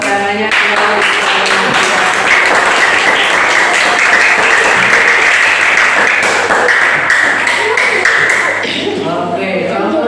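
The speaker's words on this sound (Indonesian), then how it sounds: "Tepuk tangannya." A classroom of students applauds after a group presentation, steady dense clapping running the whole stretch at close range, with some voices mixed in near the end.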